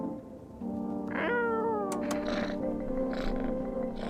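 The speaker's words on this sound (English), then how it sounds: "Reach out and pet the cat." A cat meows in the video game No, I'm Not a Human: one rising-and-falling meow followed by a softer, shorter call, close and fairly clear over a steady background hum, with no talk.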